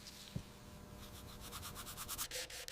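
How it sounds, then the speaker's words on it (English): Coarse-grit sandpaper is worked over the pitted steel of a Mauser rifle in quick back-and-forth strokes, a faint, close, dry rasping that speeds into a rapid rhythmic scrub. "The raw, pitted metal begins its arduous journey to perfection, starting with coarse grit sanding."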